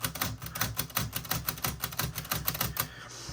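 Keys and the shift mechanism of a 1948 typewriter are worked in a rapid, uneven run of sharp mechanical clacks, close and loud, with no talk.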